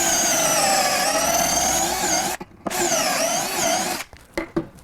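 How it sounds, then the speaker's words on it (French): Cordless drill boring angled pocket holes into wood through a Kreg jig, a loud steady whine running unbroken for over two seconds, then a brief pause and a second run, ending in a few short bursts. "On prend le foret, on met sur la visseuse et on va percer."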